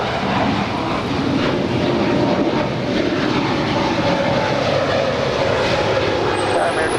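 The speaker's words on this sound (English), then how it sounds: "This is Spirit Airlines 643 departing to Chicago O'Hare in the X DreamWorks Spirit Untamed livery" A Spirit Airlines Airbus A320neo in a DreamWorks Spirit Untamed livery departs LAX for Chicago O'Hare, making a loud, steady jet engine roar that fills the whole stretch without letting up.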